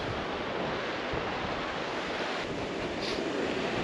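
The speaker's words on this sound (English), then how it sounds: "it's a bit windy" Steady wind roars across the microphone on a coastal path between Newlyn and Lamorna Cove, a dense unbroken rush of noise, with a hint of surf-like wash beneath it.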